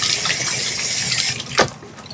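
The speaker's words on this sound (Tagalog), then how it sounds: "Hugasan lang natin, kailangan lang hugasan ng maigi." Chicken being washed under a running kitchen tap, a steady loud rush of water hissing into the sink, with one brief splash near the end.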